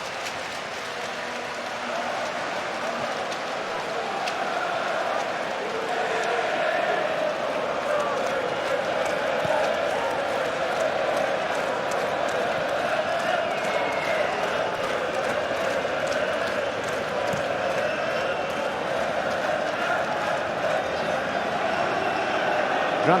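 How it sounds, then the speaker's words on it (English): A large stadium crowd at a Sweden v Republic of Ireland football match in 2013 claps steadily in a sustained wash of applause, with a commentator's voice talking over it. "They're going to a Swedish round of applause to try and lift things up."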